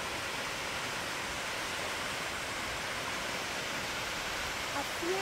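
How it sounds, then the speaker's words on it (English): A waterfall along a nature trail rushes in a steady, broad roar that fills the scene evenly from start to finish without letting up. "A waterfall."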